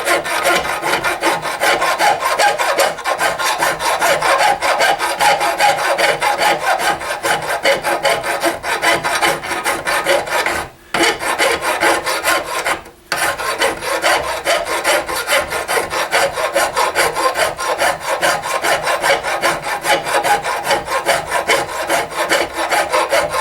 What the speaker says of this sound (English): And we'll do that with a coarse file here.